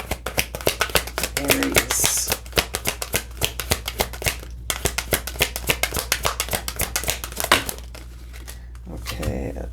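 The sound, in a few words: shuffling tarot cards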